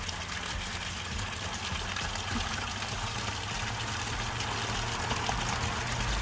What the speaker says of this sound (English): So here's Mom filling water cup at the natural spring.